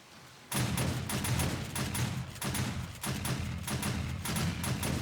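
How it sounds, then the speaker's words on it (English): A shotgun turret fires in 7 Days to Die during a horde night, a loud burst of rapid repeated blasts that starts abruptly after a short quiet moment and keeps up in clusters with no voices. "Now let's turn on a little shotgun here"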